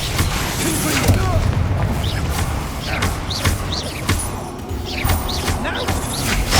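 Repeated magical blasts from the Confringo fire spell in Hogwarts Legacy, sharp booming bursts every second or so over a dense, loud battle din with crashing impacts and intermittent voices.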